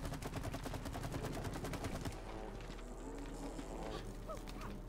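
Rapid machine-gun style fire from the co-op game It Takes Two, a fast regular burst of shots for about two seconds, then quieter game sounds with faint voices.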